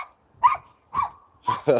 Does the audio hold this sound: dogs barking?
yes